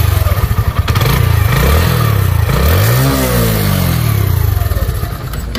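A Suzuki Gixxer 125 motorcycle is ridden close to the microphone, its engine droning loudly and rising and falling in pitch as the rider revs and shifts, with no talking.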